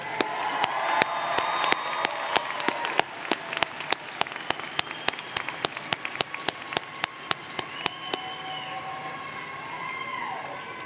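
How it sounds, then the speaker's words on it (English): Audience at a College of Arts and Letters graduation ceremony gives a round of applause, steady close clapping lasting the whole stretch with faint background tones. "Please join me in giving them a round of applause."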